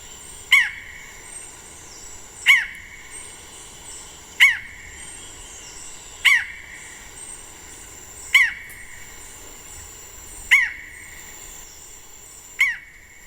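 A forest falcon gives loud, sharp single calls at a steady rhythm, about every two seconds, each one a bright descending note, answering an electronic call played back in the forest.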